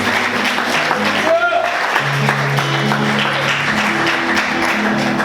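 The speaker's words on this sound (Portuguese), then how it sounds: "Aplauda Jesus bem forte" A church congregation claps for Jesus during a service, a steady wash of applause under sustained organ or keyboard tones, with a voice briefly audible over it.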